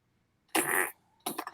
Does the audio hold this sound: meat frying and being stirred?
no